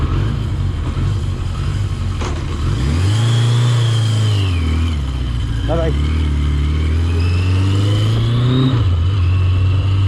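A Yamaha XJ650 motorcycle with stock twin exhausts idles loudly nearby and is revved up twice, the engine note rising and falling, while someone talks over it.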